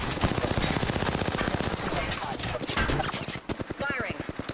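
Rapid automatic weapon fire in Apex Legends duos, dense repeated shots in quick rhythmic bursts, loud and close, with a brief pause before firing resumes, while players talk over it.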